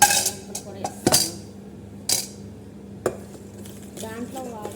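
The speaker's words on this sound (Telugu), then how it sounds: "బంగాళదుంపలు కూడా వేస్తాను." Potatoes tumble into a cooking pan with a few sharp metallic clatters and clinks close by, followed by quieter stirring noise and a faint sizzle.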